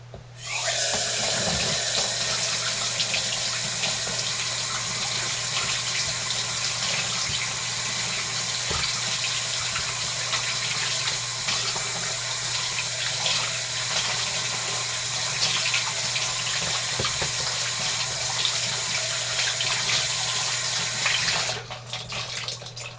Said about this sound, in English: You're going to hear the water running.